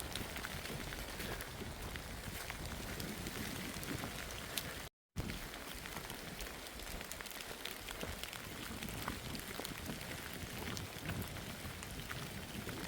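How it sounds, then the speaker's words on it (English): Steady drizzle falling on the Appalachian Trail in North Carolina during a hike, a soft, even hiss of rain that continues throughout, briefly broken by a cut, with no voices. "this is just drizzle again, but hike in the rain regardless"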